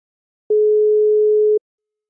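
A single telephone tone sounds during dialing, one steady pure beep lasting about a second, loud and clear with silence before and after.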